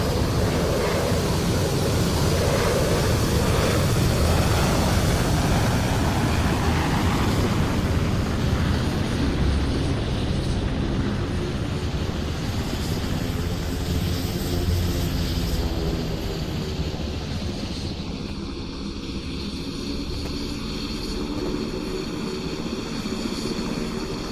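An F-15 fighter jet in the Roblox flight game PTFS departs from an airbase airshow, a loud steady broadband engine roar that slowly shifts and thins as the jet moves away.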